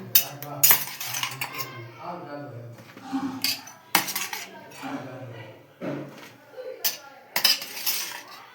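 A metal ladle clinks and scrapes against a bowl while scooping chillies in a Gujarati kitchen, with irregular sharp taps and knocks spread across the clip and brief bits of talk between them.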